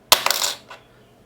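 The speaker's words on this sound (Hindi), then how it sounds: "वापस से मैं ये कैप गिराता हूं" A plastic cap dropped onto a hard surface, caught close on a lapel mic: one sharp impact, a quick rattle of small bounces, then a faint final tap.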